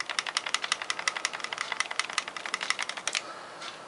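A worn 1911 pistol is shaken in a rattle test, giving a fast, even series of sharp metallic clicks and clacks for about three seconds before a faint hiss takes over, close and alone.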